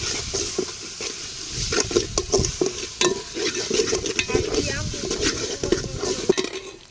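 Mint and coriander are mixed into chicken biryani in a pot, with continuous close scraping and stirring over a hissing sizzle, dense with irregular clicks and knocks.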